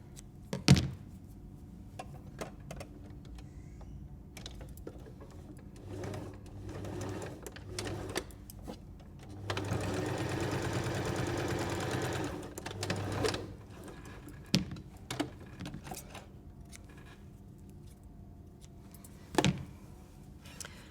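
A sewing machine runs a short burst of stitches through fabric, a steady mechanical whir lasting a few seconds amid quiet handling clicks and thumps before and after, with no talk.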